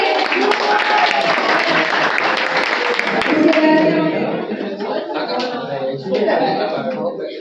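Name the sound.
audience applause for a poet at a Hindi poetry gathering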